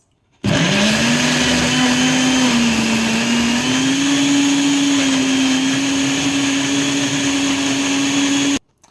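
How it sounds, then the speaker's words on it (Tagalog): A blender whirs loudly and steadily for about eight seconds, blending banana, oats and plain Greek yogurt into muffin batter, with a sharp start and a clean stop and no voices. "So i-blend na natin guys."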